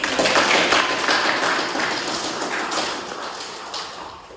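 Applause from an Indonesian community learning gathering, a dense patter of many hands clapping together, loudest at the start and slowly thinning and fading over a few seconds.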